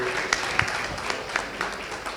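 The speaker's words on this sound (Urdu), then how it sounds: "ایک دفعہ پھر بھرپور تالیاں عباس بھائی کے لیے۔" Audience applause at an Urdu poetry event honoring a poet with a lifetime achievement award, a steady wash of clapping that continues evenly with a few sharper claps standing out, moderately loud and without talk.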